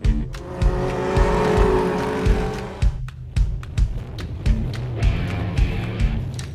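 Dirt track race cars at Mountain Motor Speedway in Allison, Kentucky, engines roaring and revving as cars pass by in repeated surges, loud and fairly close.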